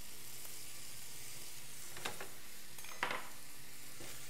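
Quinoa with shrimp, egg and soy sauce sizzles quietly in a pan, a soft continuous frying hiss broken by two or three short scraping stirs of a utensil.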